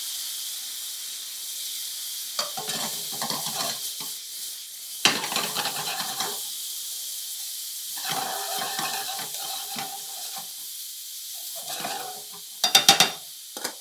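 Tomato sauce base poured into a hot pan holding shrimp, bursts of hissing sizzle and steam as the liquid hits the metal, with stirring in between and a sharper flare near the end, close and loud.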